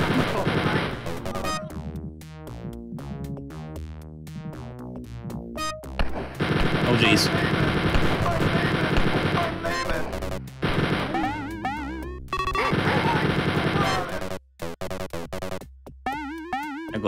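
Enemy gunfire rattles through the video game Wolfenstein 3D in rapid repeated bursts. The shots are loud and dense over a steady game soundtrack, with brief pauses between volleys.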